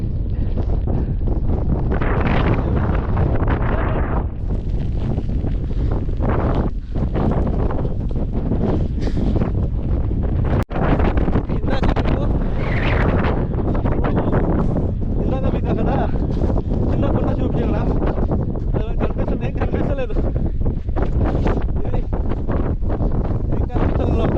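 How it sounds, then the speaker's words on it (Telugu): Strong wind buffets the microphone on the heights of Korigad Fort near Lonavala, a loud, constant roar with gusty surges, and voices come through at times. "గాలి తొప్పేస్తుంది."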